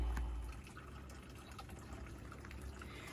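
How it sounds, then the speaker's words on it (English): Water pours softly and steadily over a garden bed rocked in with native field rocks, a low continuous splash and trickle that starts a little louder and then settles, with no voices. "And then I think the whole thing could be watered."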